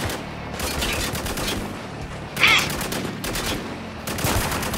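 Sniper and automatic gunfire from the shooter game Spec Ops: The Line, a steady stream of shots with a sharp, louder blast standing out midway, all at a fairly even level with no talk over it.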